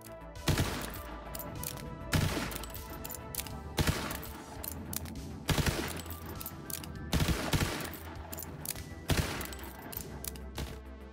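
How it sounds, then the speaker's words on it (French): Lucky 7 pistol in Borderlands 3 fired in rapid bursts to empty its magazine: loud clusters of shots recurring roughly every one and a half to two seconds over a steady game soundscape, with no talking. "tu tires comme un bourrin et tu vides ton chargeur"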